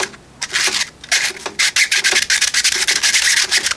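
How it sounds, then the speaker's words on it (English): A rolled piece of sandpaper rubs inside a 3D printed watch part, giving loud, close, rapid scratchy back-and-forth strokes in irregular bursts. "Good way to do the inside is roll a piece of sanding paper"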